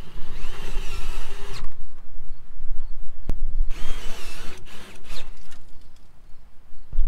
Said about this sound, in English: I'm gonna take these small screws and fill in these holes